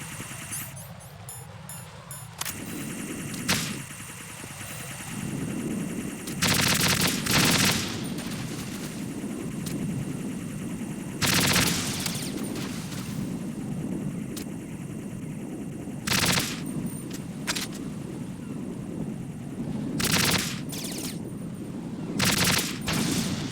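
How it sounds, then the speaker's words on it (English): Enemy guards open fire in Metal Gear Solid 2, with sustained automatic gunfire and sharp loud bursts recurring across the stretch over a steady background drone. "the guys were shooting at me."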